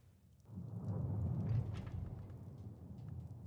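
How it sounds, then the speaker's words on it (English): Rain and thunder on a rainy night in Book of Hours: a soft, steady patter of rain under a low, rolling rumble of thunder that swells and then fades, fairly quiet with no talking. "I love a rainy night."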